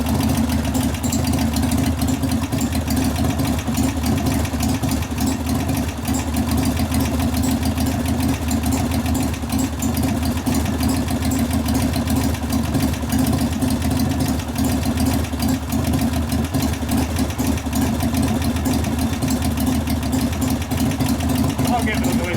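A 1988 Harley-Davidson FXR V-twin idles steadily and loudly at close range with a continuous low rumble, its valve lifters ticking throughout; a voice talks over the engine.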